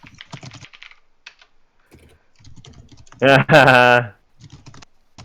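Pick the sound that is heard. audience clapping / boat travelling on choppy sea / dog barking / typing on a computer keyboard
typing on a computer keyboard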